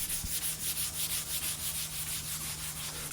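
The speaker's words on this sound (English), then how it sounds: "I'm just giving it a final sanding with 400 grit sandpaper so I can get a really nice smooth surface" Fine 400-grit sandpaper rubs over the primed surface of a mid-century dresser in quick, regular back-and-forth strokes, close and steady with a rasping hiss and no talk.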